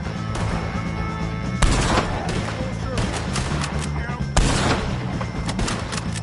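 Gunfire in Red Dead Redemption 2: a running shootout of sharp shots, with two heavier cracks standing out, over steady background noise with voices nearby.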